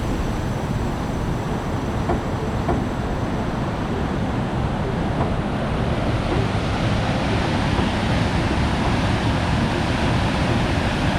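A steady, dense roar of rushing water at Dhuandhar Falls, Bhedaghat, Jabalpur, loud and unbroken throughout, like a powerful waterfall close by, with no voices.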